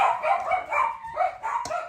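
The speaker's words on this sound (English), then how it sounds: "My dogs are super excited." Excited dogs barking and yipping in quick repeated bursts, close and fairly loud, with no talk.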